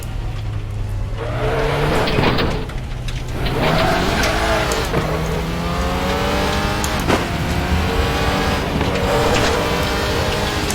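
An Audi RS 3 LMS race car laps the Blister Berg track in RaceRoom, its engine droning and revving continuously through rising and falling gear sweeps, with brief tire squeals over a steady loud roar.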